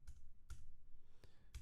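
A few sharp keystrokes on a computer keyboard, typing a filename while setting up a Node.js project, with short quiet gaps between the clicks.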